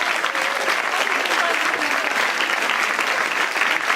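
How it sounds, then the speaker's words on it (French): Sustained applause from an audience at the final of a Sciences Po speaking competition in honour of Arthur Königsberg, a dense, steady wash of clapping filling the room for the whole stretch with no voices over it. "Mesdames et messieurs, je vous demande d'applaudir Arthur Königsberg."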